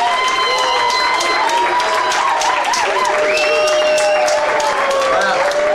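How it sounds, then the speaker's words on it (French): A concert audience claps steadily and energetically, with cheers and whoops riding over the applause and a general crowd murmur beneath. "Je vous demande de les applaudir bien fort."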